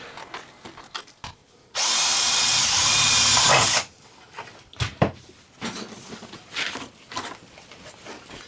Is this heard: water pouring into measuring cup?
no